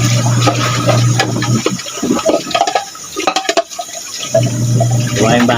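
Dishes being washed under a running tap at home, with steady water flow interrupted midway by clattering plates and splashing, then the stream resumes.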